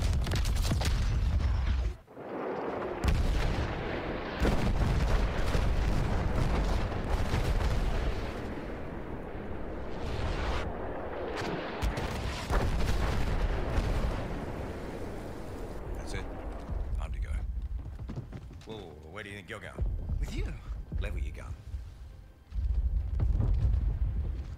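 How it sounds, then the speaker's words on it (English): Dreadnought artillery barrage in Battlefield 1, with heavy booming blasts and rumbling impacts rolling through most of the stretch, mixed with voices talking over the bombardment. "Direct the dreadnought barrage."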